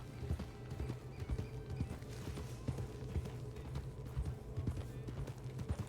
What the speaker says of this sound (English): I hear a horse.